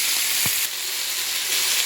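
Fish for tacos frying in a hot pan, a continuous close hiss and crackle of oil with a small knock partway through.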